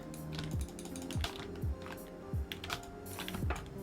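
Computer keyboard keys are pressed while playing a video game, quick irregular clicks and taps, close and fairly quiet, mixed with descending game sound effects in the background.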